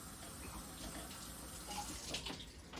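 A kitchen tap runs steadily into a sink, a constant gentle rush of water at moderate volume with faint clinks mixed in.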